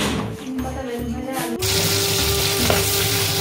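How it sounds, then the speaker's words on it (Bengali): Whole fish fry in hot oil in a home kitchen, a loud steady sizzle with sharp splattering pops that swells midway, while someone talks over the cooking. "মাছের তেল ফাটছে"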